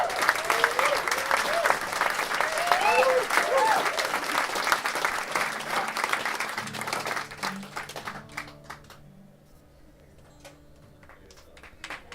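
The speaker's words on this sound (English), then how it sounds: "get a round of applause for all the guys who are putting this on" Crowd at an outdoor concert at Mullin's Mill breaks into loud applause and cheers, sustained for about eight seconds before fading to scattered claps and quiet room murmur.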